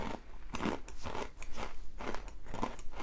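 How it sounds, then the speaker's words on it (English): Repeated crisp crunching bites into crunchy tom yum flavored coconut rolls, close up and fairly quiet, several sharp cracks in irregular rhythm with no talking. "Crunch into these tom yum flavored coconut rolls"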